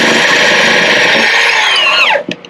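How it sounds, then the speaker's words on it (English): A power drill whines steadily as it bores half-inch holes into steel, then winds down and stops with a brief rattle at the end. "once you finally drill through the steel to the required depth for the bolts"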